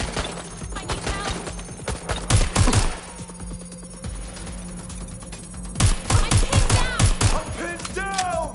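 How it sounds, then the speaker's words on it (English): Gunfire in the Watch Dogs Legion video game: loud bursts of rapid shots come in clusters, with quieter stretches between them, under game voices. "Shot fired. Direct hit. Taking fire."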